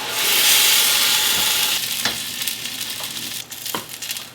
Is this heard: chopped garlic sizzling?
yes